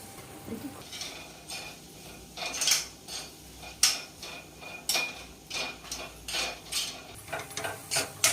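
Semolina and mashed banana roasted in a pan for prasad shira, with repeated scraping strokes of a spatula against the metal and a soft sizzle underneath, in a steady rhythm of close, fairly loud stirs.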